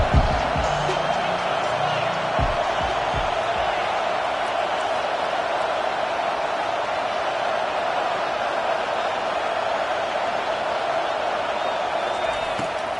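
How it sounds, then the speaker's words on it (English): A stadium crowd in a college football video game roars steadily as the defense lines up on third down, a dense, constant wall of sound heard throughout. "Decibels rising as the crowd gets behind this defense on third down."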